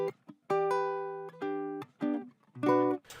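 A dry acoustic guitar with no effects plays a short run of plucked notes and small chords for a hip hop beat, each note ringing briefly and decaying, close and clear with gaps between phrases.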